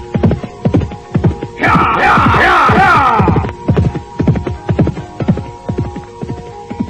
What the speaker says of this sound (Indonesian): nampak seorang laki-laki berkuda tengah memacu kudanya dengan cepat sekali